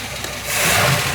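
A big-block engine on an old yacht runs loud and close, its steady low rumble swelling slightly partway through the short burst, with no voices over it.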